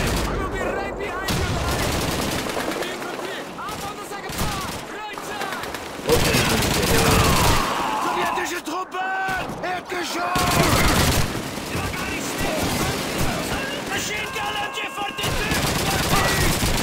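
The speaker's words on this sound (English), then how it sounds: "Enemy machine gun to the east." Machine gun fire in Call of Duty 2, dense bursts of gunfire and explosions throughout, loud and close, with shouted voices mixed in.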